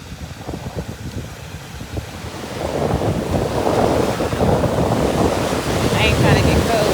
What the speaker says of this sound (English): It's breezy out here.